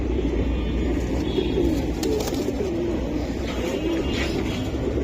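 A pair of hammer pigeons coo steadily up close, low rolling phrases repeating one after another over a constant background hum, with no talking.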